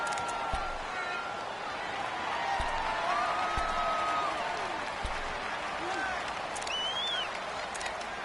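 Steady, loud crowd roar from an American football video game stadium fills the whole stretch, with scattered whistles and a few sharp thuds cutting through the constant din.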